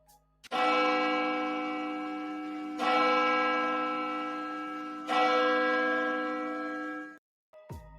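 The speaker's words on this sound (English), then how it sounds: "can we please drop a church bell for the life that was lost in this situation" A church bell tolls three times, each strike ringing out with a long, slowly fading resonant hum, clear and alone, before falling silent.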